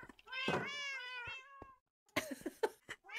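Several cats meow in a close, loud run of drawn-out calls, then a pause before quieter thumps and short sounds follow, with no speech over them.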